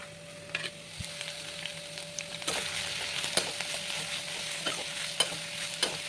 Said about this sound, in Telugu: కట్ చేసి పెట్టుకున్న బీరకాయ ముక్కలను కూడా వేసుకొని బాగా ఫ్రై చేసుకోవాలి.